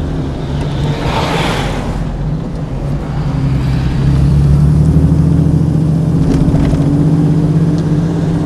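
A Jaguar XK 140 DHC engine drones steadily while driving, a loud, continuous mid-pitched hum that swells slightly partway through.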